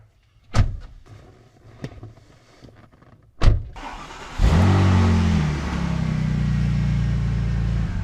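A 2003 Porsche 911 Turbo of the 996 generation, its flat-six cranking and catching into a loud, steady idle rumble that holds close, after a few door and key clunks with no talk.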